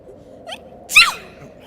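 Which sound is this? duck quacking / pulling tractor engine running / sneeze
sneeze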